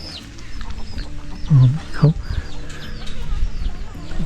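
Chickens cluck and murmur in a busy outdoor homestay yard in Na Lao Mai village, Chiang Dao, Thailand, with two louder low clucks standing out over steady chatter and birdsong in the background.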